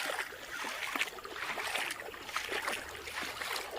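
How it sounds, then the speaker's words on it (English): Water in Hillabee Creek in Alabama flows down over a drop, a steady close rushing and splashing wash with no talk. "I hear the water coming down with a drop."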